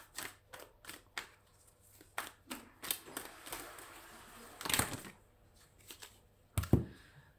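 Tarot cards are shuffled and drawn, giving a series of quiet crisp flicks and riffles, then a longer shuffling burst and a few sharper snaps, close by with no talking.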